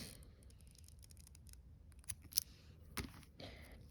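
Scissors snip string close to a knot on a handmade blue cross bracelet, giving a few quiet, sharp clicks near the end of an otherwise hushed stretch.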